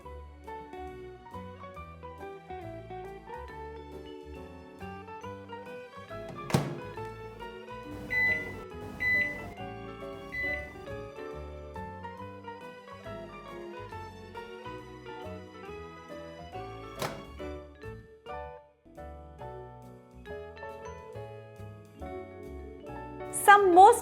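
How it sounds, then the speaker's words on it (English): A microwave oven heats an eggless Nutella mug cake, its steady low hum running throughout, with faint tonal beeps and a few sharp clicks scattered through the cycle and a louder beep burst at the end. "this is ready to go in the microwave for 2 minutes"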